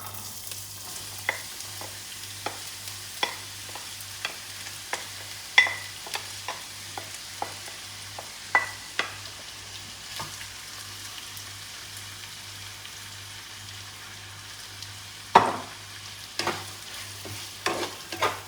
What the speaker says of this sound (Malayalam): എണ്ണയൊന്ന് ചൂടായിട്ടുണ്ട് ഇനി നമുക്ക് ഈ ഉള്ളി ഇട്ട് കൊടുക്കാം